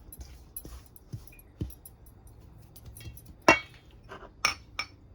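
Dry bread ingredients, wheat and white flour with salt, are stirred in a bowl, giving quiet scattered clinks and taps of a utensil against the bowl, faint and irregular.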